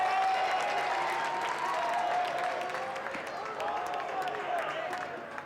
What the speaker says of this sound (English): There's more noise in the crowd